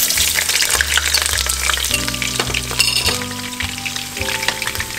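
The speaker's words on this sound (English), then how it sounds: "Okay, the oil is hot now, so what I will do, I will add my onions to it." Onions frying in hot oil, a close, steady sizzle with crackling spatter and some stirring, with no talking.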